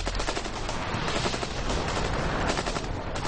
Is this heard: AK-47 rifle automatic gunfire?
yes